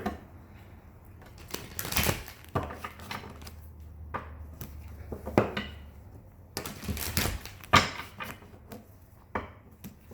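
Tarot cards being shuffled by hand, irregular papery riffles and soft taps on a table, some bursts louder than others, close and without talk.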